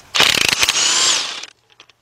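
Half-inch drive impact gun removing 15 mm bolts during Ford Fiesta head gasket and timing belt work, one loud close burst of rapid hammering lasting about a second before spinning down, followed by faint clinks.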